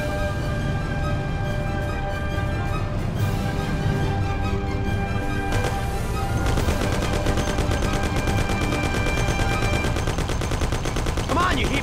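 Gunfire in the Mafia Classic video game: loud, dense bursts of rapid shots that run continuously with no pauses, heavier and busier toward the end.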